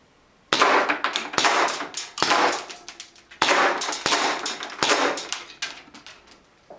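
Empty Webley revolver shells clatter into a metal pot in several bursts of bright, ringing metallic rattles, loud and close with short pauses between drops.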